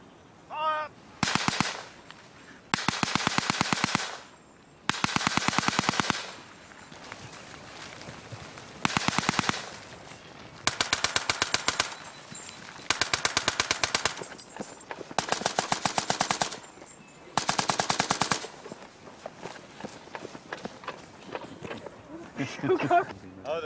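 Bursts of rapid rifle and machine-gun fire from a World War I battle reenactment of the Somme, coming in repeated volleys of a second or two separated by short pauses, loud and close, with shouted commands in between.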